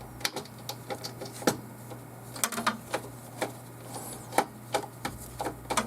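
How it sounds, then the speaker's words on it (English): Small screw being backed out of a Dell XPS 8930 desktop chassis: a run of quick, light clicks and ticks, close up and uneven in rhythm, over a low steady hum. "I'm going to remove that screw."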